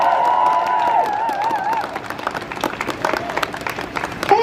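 A protest crowd outside the BBC, standing in cold and rain, cheers and claps for the speakers, with shrill whoops early on giving way to sustained applause.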